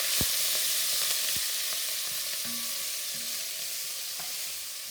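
Onions soften in a pan with a steady, close sizzle of frying, broken by a few faint utensil taps and stirring scrapes, with no voices.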